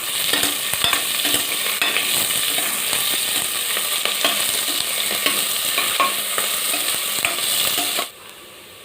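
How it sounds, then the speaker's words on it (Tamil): Green chillies and onion sauté in a pan for coconut milk rice, a loud continuous sizzle with rapid scraping and rattling from constant stirring, cutting off abruptly near the end. "பச்சை மிளகாய், அந்த வெங்காயத்தை போட்டுக்கலாம். இதுவும் நல்லா மிக்ஸ் பண்ணி வதக்கிக்கலாம்"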